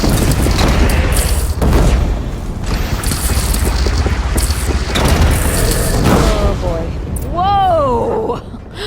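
A bridge collapsing onto an enemy in the video game Horizon Zero Dawn Remastered: loud rumbling booms and crashing debris, with talk and shouts over the din and a creature's warbling cry near the end.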